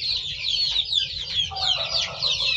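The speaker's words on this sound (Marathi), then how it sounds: "ही प्युअर गावची पिल्ले आहेत आपली" A crowd of native village chicks, about three to four weeks old, in a brooding system keep up a continuous chorus of high, overlapping peeps and chirps, close and fairly loud, with a low background hum.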